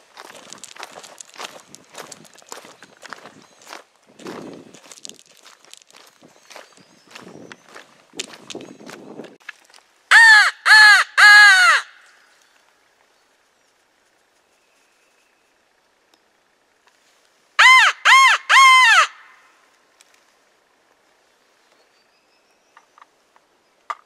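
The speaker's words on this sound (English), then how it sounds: "Spot a crow call." Crows caw over a farm field during a spring turkey hunt, two loud, close bursts of three or four harsh notes each. Earlier, quieter footsteps and rustling cross the ground before the calls.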